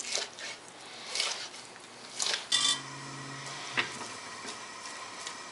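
A knife chops through wet, raw bacon on a cutting board in a home kitchen, a few separate moist thuds and slicing scrapes with pauses between, quiet and close, with faint background hum.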